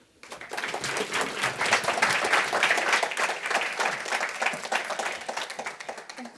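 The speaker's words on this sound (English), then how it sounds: "Come on, another round of applause for the incredible Pamela" A livestreamed EVAW Day 2025 event crowd applauds a speaker with sustained clapping that swells and then gradually thins out, loud and dense throughout.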